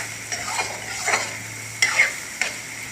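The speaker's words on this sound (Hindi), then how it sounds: "थोड़ा सा ये फ्राई होगी लहसुन और अदरक के अंदर भी" Garlic and ginger fry in a pan for a creamy chicken malai handi, a steady sizzle broken by a few distinct stirring scrapes, close and clear, with no talking.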